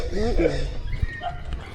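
Maltreated dogs yip and whimper in short, high, wavering cries close by, mixed under a person talking.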